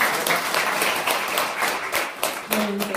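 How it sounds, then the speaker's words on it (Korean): Audience applause closing a lecture in a Korean hall, a steady crowd of clapping hands sounding moderately loud throughout, with scattered louder claps rising out of the wash. "다시 한번 대구 왕자님께 박수를 부탁드리겠습니다"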